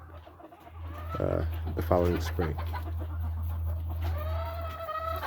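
Game chickens in breeding pens give several clucks and short calls near the start, then a drawn-out rising call, over a steady low hum, with a voice speaking briefly.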